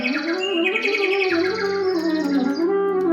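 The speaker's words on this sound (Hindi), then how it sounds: "पक्षियों की चहचहाट से वातावरण गुंजायमान हो रहा है।" Birds chirp and sing continuously in a busy chorus of overlapping tweets and trills, fairly close and steady, with no voices.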